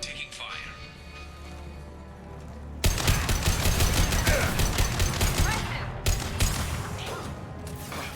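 Sustained rapid gunfire from a firefight in the Mass Effect 2 video game, starting abruptly after a quieter stretch and rattling on loud and dense with brief breaks, with voices talking over it.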